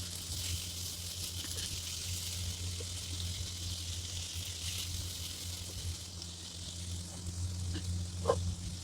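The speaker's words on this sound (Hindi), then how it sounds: "अब इसे अच्छे से मिक्स कर देते हैं" Vinegar stirred into sizzling Manchurian gravy in a pan gives a steady, close hiss of frying with faint scrapes and bumps of stirring beneath, holding an even level throughout.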